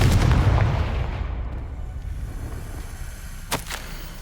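A Confringo blasting curse goes off in Hogwarts Legacy as a loud low boom that decays into a rumbling tail, followed by a couple of short sharp cracks near the end.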